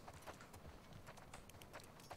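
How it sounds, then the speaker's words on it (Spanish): Horse hooves clip-clop in the video game The Last of Us Part II, a quiet, steady run of hoofbeats on a hard surface, faint and without talk. "Aquí está el caballo."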